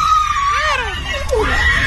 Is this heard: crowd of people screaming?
yes